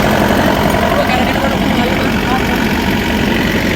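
A car engine idles steadily and loudly close by after starting, a dense continuous rumble with voices talking over it, on a day out taking vehicles for repair.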